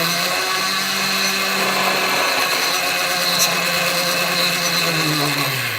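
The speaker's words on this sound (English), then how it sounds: "I'll make a couple different cuts with the hacksaw blade" A hacksaw blade cuts grooves into a spool spinning on a lathe-like setup while making a handmade pin, giving a steady close grinding and rasping whir that runs continuously without pause.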